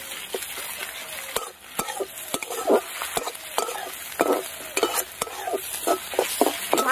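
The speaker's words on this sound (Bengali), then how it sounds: "ভালো করে আদা রসুন একদম ভেজে নিলাম।" Ginger garlic paste fries with browned onions in a pan under a soft hiss, while a spatula scrapes and knocks against the pan in quick, repeated strokes throughout, close and prominent.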